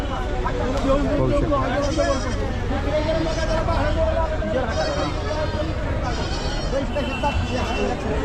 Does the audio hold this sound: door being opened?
no